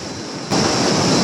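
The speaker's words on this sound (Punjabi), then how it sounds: "ਨਦੀ ਵਹਿੰਦੀ ਆ" A mountain river along the trekking route to Hemkund Sahib cuts in suddenly as a loud, dense roar of rushing water that holds steady for under a second.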